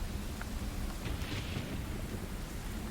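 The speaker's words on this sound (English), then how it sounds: "The rain escalates to thunder." A stormy night with steady rain and low rumbling thunder, as heard from inside a horse-drawn carriage on a journey; the rumble rolls continuously beneath the rainfall at a moderate, even level.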